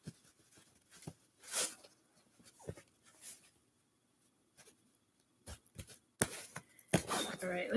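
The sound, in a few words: shuffling a deck of cards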